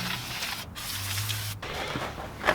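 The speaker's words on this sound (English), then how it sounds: "spraying them all with WD-40 makes them smell marvellous, but also stops the fingerprints from rusting them" WD-40 is sprayed onto metal bead roller dies in close, hissing bursts separated by brief pauses, with no one talking.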